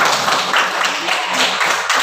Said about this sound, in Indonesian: tepuk tangan Agus Surya